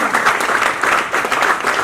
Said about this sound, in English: A loud round of applause for the wonderful responses that they gave.